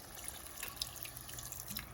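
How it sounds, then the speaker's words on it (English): Water runs and splashes steadily into a cooking pot of spinach stew, a soft continuous pouring with faint drips, fairly close and without voices. "now I'm going to go ahead and add some water"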